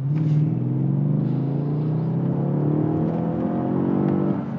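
A Mercedes-Benz E500 Coupe with a 382-horsepower V8 accelerating hard in sport mode, its deep engine note climbing steadily in pitch through the gears, loud and close from inside the car.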